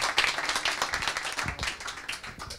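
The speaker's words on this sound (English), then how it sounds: "You can again applause him." Audience at a Berlin meetup on blockchain, AI and tokenization applauding briefly, a short burst of scattered clapping at moderate distance, fairly faint and without talk.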